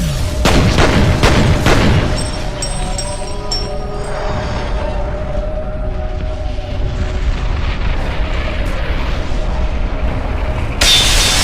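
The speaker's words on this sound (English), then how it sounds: "Pointman does manage to survive an explosion to the face" An explosion in the video game F.E.A.R. opens with a few sharp booms, then a rumbling aftermath, faint tones and ringing that trail off before a final burst of noise at the end.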